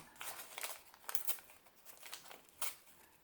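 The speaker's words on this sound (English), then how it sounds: "just tear off some pieces of this paper here" Pieces of a brown paper bag are torn by hand in a few quick, quiet rips and crinkles, close up with no talking.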